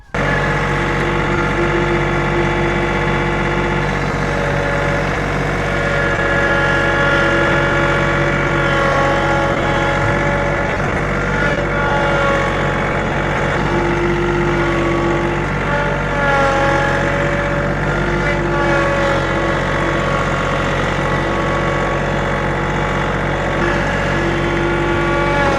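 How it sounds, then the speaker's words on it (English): A tractor engine runs steadily while being used to dig out a muddy mess. It gives a continuous droning hum with fairly constant pitch and a few slight shifts in tone, close and alone without talk. "I'm going to get the tractor and dig all this mess out real quick."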